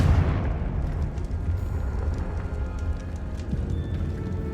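A Confringo blasting spell explodes in the Hogwarts Legacy video game, a loud sustained rumbling blast with crackling debris that holds for several seconds at full strength.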